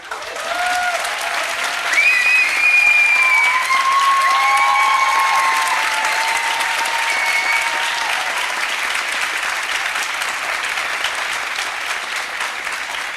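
An audience applauds at the closing panel of a philosophy event, with dense, sustained clapping that stays loud and even throughout and tapers only slightly toward the end.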